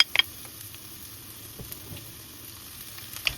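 Onion and garlic fry in a hot pan with a faint, low steady sizzle, broken by a few soft clicks and taps near the start and end.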